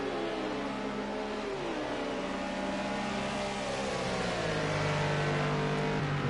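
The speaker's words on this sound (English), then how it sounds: "just passing the foreground of the screen in that red Audi R8" A red Audi R8 GT3 race car in a sim racing broadcast at Sonoma runs by with a sustained engine drone, its pitch shifting through the gears, loud and continuous, with other car engines layered underneath.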